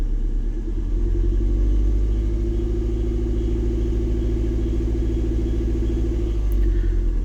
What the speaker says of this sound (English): I think that is running on all 4 cylinders now.